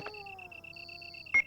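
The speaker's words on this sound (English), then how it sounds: "That beep is the radio." Radio beep in the 1996 PC game Resident Evil: a sustained electronic tone with a pulsing upper line, ending in a short sharp burst, clean and alone.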